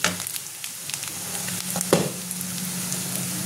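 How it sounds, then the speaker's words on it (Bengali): Marinated mutton goes into a pan of fried onions and sizzles steadily, with a short clatter partway through as the meat lands and is stirred, the frying hiss continuing close and alone. "এবার আমি ম্যারিনেট মাংসটা দিয়ে দেবো এর মধ্যে।"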